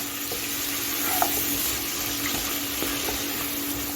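Vegetables mixed with salt and turmeric, stirred in a pan over a medium gas flame: a steady soft sizzle with faint scraping clicks of the stirring utensil, fairly quiet, no voice.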